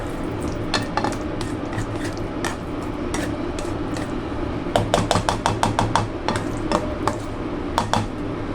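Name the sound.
pork chops frying in a pan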